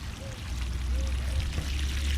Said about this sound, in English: Flowing like the water hose is on. Nothing but gravity.